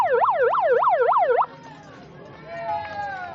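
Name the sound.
siren sound effect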